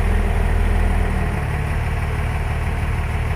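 A 12v Cummins diesel engine idling shortly after a cold start, a steady, loud, rumbling low throb with a constant vibration and no speech over it.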